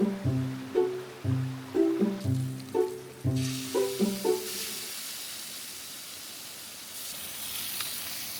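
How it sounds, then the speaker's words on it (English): Tortillas fry in hot oil, a soft, continuous sizzling hiss that rises after a short run of plucked musical notes at the start and carries on steadily to the end. "I'm gonna start frying the tortillas."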